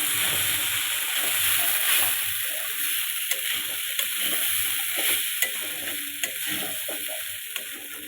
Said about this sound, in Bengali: এবার আমি খুব ভালোভাবে প্লেটটাকে মিশিয়ে নেব। তো আমি ভালোভাবে মিশিয়ে নিতেছি।